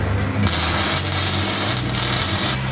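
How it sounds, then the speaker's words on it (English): Welding body mounts onto a Nissan Patrol bush truck gives a loud, steady crackling hiss that holds without pause throughout, close to the work. "We're just welding the body mounts back on."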